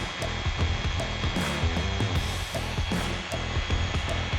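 Power sander whirring steadily against wet car paint, a continuous close buzzing drone with small repeating rattles and ticks as the sanding disc works the surface.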